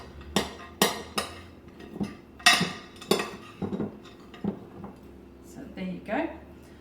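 A spoon stirs a keto nut mix in a bowl, giving irregular clinks and scrapes, some sharp and loud and others softer, with faint sound afterward.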